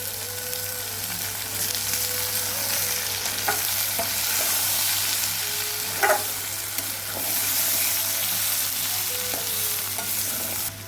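Ambarella pieces with onions and salt sauté in a pan, giving a steady close sizzle with occasional spoon scrapes and stirring knocks throughout and no talking.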